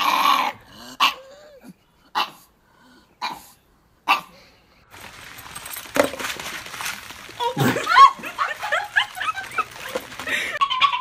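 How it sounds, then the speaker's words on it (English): A dog growls and barks in short loud bursts spaced a second or so apart, then breaks into a longer stretch of whimpering, yipping growls, all close by. "That's the weirdest growl. Like, growl is already barking."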